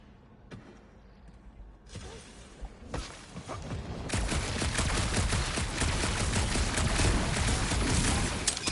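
Gunfire in Marvel's Guardians of the Galaxy: a few scattered sharp shots at first, then from about the midpoint a sustained, loud barrage of rapid blasts with crashing impacts that carries on to the end.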